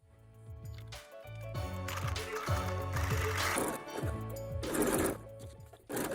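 A sewing machine runs a zigzag stitch along a seam of high-waist knickers in short, rapid mechanical bursts with brief pauses between them, heard close up and alone.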